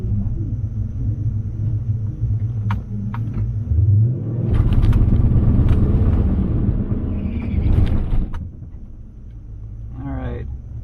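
A cammed Dodge Challenger R/T V8 rumbles on a race track, a deep loud engine drone that swells around the middle of the stretch, then eases with a brief higher whine near the end.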